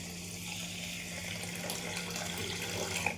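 Tap water running into a pressure cooker holding rice, a steady soft splashing stream at moderate distance, faint and continuous with no talk.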